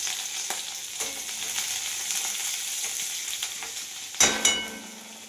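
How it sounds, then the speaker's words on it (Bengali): Onions sizzle and fry in hot mustard oil in a wok with a steady crackle, then a couple of sharp clatters as they are stirred in the pan. "পেঁয়াজটা একটু অল্প ভাজা হোক।"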